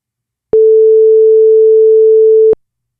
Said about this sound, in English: we've been able to synthesize a signal that has a duration of 2 seconds that we set, and it has a frequency of 440 hertz